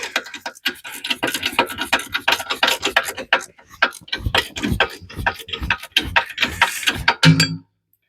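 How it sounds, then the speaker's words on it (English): Ratchet wrench clicks sound as U-bolts are tightened during a Ford 8.8 rear axle swap under a Jeep in the snow, with rapid close metallic ticking in quick bursts and brief pauses between strokes. "Now I can start tightening up the rest of the U-bolts."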